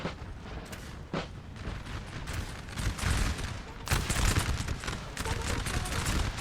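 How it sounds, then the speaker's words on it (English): Musket volleys from massed Russian and French lines in a Napoleon Total War battle, a dense continuous crackle of gunfire with heavy rumbling booms and distant artillery. "some glorious volleys there from the Russians"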